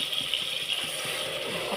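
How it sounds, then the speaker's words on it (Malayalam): Water is poured into a cooking pan holding tomatoes, onions and green chili, giving a steady close splashing rush that lasts a couple of seconds with no talking. "ഇതിൽ കുറച്ച് വെള്ളം ഒഴിച്ച് കൊടുക്കുക"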